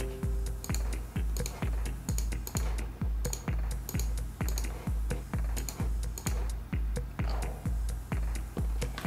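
Gaming mouse buttons click in a fast, steady series of crisp, close taps, roughly twenty in nine seconds, with no talking over them.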